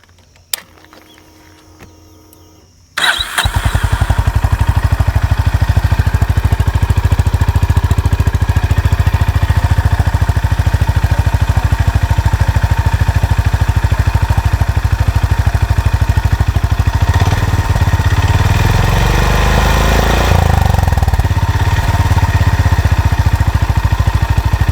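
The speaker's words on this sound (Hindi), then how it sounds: "तो मैं गाड़ी को करता हूँ स्टार्ट।" A Royal Enfield Classic 350 or Honda Hness motorcycle starts with a short electric-starter crank, then settles into a loud, steady thumping idle close by that runs on alone for the rest of the time.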